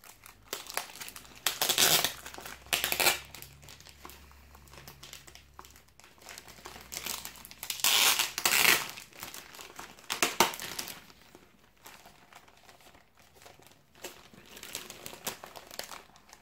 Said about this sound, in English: I will open that piece of plastic so we can just have a bit of a closer look at it.